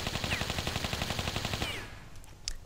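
Rapid, rhythmic gunfire from Lara's thigh pistols in Tomb Raider 3, a fast burst of loud repeated shots that cuts off and leaves a brief quieter tail.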